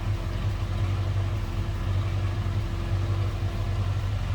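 A 1965 Ford Mustang convertible idles steadily from behind, its mild, unmodified exhaust giving a constant low rumble that stays even and moderately loud throughout, with no speech.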